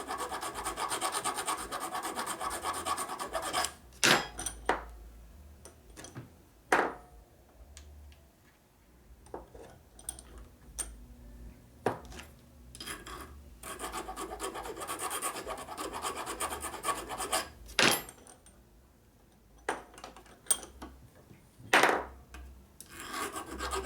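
Motorcycle drum brake shoes on a 1936-1948 Harley knucklehead, steel and lining material rubbing against the drum, giving repeated scraping rasps with sharp knocks and ticks at irregular intervals, fairly close and moderately loud with no talk.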